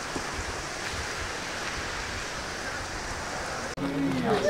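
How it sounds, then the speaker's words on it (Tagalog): Heavy rain falling in Gudauri, Georgia, a dense continuous hiss of downpour heard close and steady, with a brief interruption near the end followed by slightly louder rain. "Sobrang ulan pa rin."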